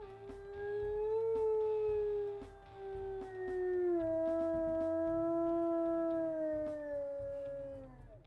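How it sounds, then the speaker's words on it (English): A wolf howls in the video game WolfQuest, a long, mid-pitched tonal call that slowly slides downward with a brief break midway, loud and close with no talking over it. "And as for his howls,"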